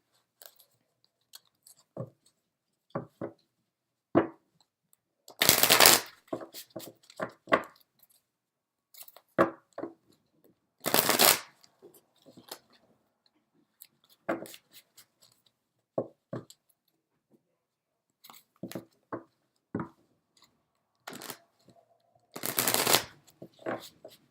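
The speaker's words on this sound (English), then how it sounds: "So we're going to go ahead and start shuffling." Playing cards are shuffled in repeated bursts, sharp riffling flurries alternating with softer taps and handling sounds close by.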